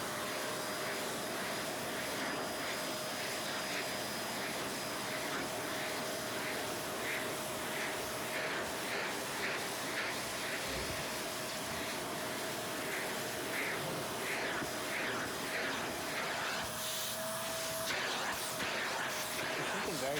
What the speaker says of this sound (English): And now we hoover.